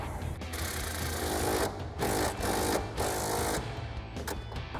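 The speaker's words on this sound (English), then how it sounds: "we're going to grab our impact and 17mm socket and tighten that down" An impact wrench with a 17mm socket tightens the rear shock top mount nut on a 2005-2014 Ford Mustang. It fires in several short, rattling bursts, with quieter mechanical noise between them.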